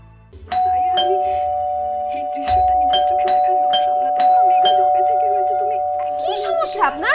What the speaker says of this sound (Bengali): সে তখন থেকে কলিং বেল দিতেছে